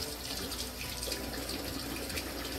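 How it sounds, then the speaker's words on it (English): Cold water runs from a kitchen tap during jalapeno prep for egg rolls, a steady, continuous splashing rush that holds even for the whole stretch with no talking. "Run some cold water"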